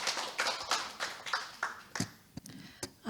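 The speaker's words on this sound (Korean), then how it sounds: "큰 박수로 맞이해 주시면 감사하겠습니다." Hands clapping at a Korean quality-of-life measurement forum session welcoming a presenter, sounding as a handful of separate sharp claps spread unevenly over a few seconds rather than a full sustained ovation, fairly quiet in the hall.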